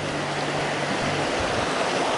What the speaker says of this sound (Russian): Вот такой вот ручей идет.